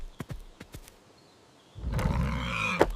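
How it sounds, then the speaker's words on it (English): An angry wild boar in a story, a loud rough roaring snort that lasts over a second after a few sharp clicks and thuds. "a wild boar hunted him down near an old forest chapel"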